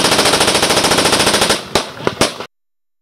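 Machine gun sound effect in a battle scene: a rapid, loud burst of evenly spaced shots for about a second and a half, then a few separate sharp single cracks before it cuts to silence.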